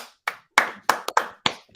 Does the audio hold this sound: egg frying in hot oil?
no